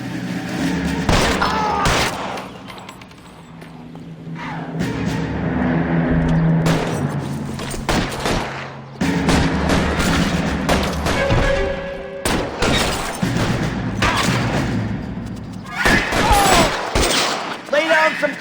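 Gunfire from a Nintendo Switch session of L.A. Noire, with dense fusillades and scattered heavy shots and thuds recurring throughout, loud and close, while voices shout over the exchange.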